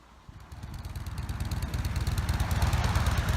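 Harley-Davidson motorcycles ride away, their rumbling V-twin engines building from quiet to a loud, steady throbbing pulse, close by with no talk.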